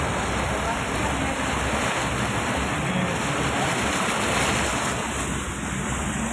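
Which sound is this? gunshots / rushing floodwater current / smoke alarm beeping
rushing floodwater current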